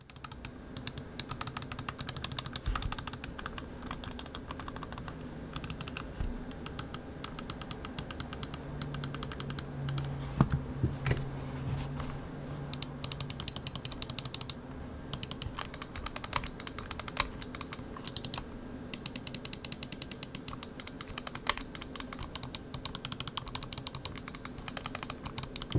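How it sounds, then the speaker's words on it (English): Rapid clicking of the primary and secondary buttons on a Glorious Model D Minus gaming mouse, compared with the older Model D; crisp, close ticks repeat steadily and densely throughout, with no talking. "I'm just gonna compare the mouse 1 and 2 on the Model D Minus to the older Model D"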